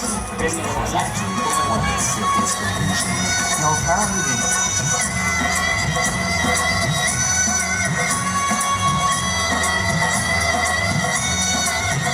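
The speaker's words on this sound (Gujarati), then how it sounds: "ખૂબ તાળીઓના ગડગડાટથી" A crowd at a GMC-hosted community get-together for street vendors in Gandhinagar claps and cheers continuously for an arriving guest, a loud, steady roar of applause with shouts and whoops mixed in throughout.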